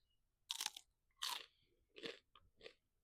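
Someone bites and chews a crunchy, freshly picked Oregon snow pea from a small backyard garden: four distinct crisp crunches, close and fairly loud, spaced in an uneven rhythm with no talking.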